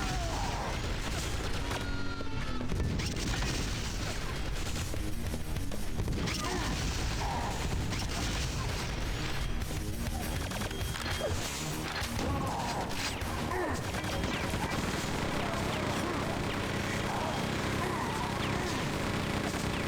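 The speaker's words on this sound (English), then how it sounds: "I break out the chain gun and we start just jumping at enemies all over the place" Chain gun blasting in Quake 2: The Reckoning, a dense, continuous stream of loud mechanical gunfire with crashing impacts and explosions layered over game action, running unbroken from start to finish.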